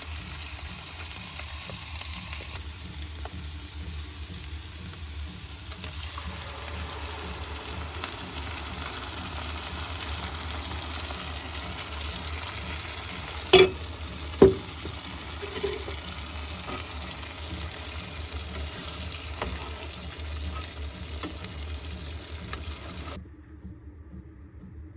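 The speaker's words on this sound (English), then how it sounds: "Now we're cooking up some spaghetti. Some delicious mushrooms in there." Spaghetti sauce with mushrooms frying in a pan aboard a sailboat, a steady close sizzle running throughout, with a couple of sharp clinks partway through.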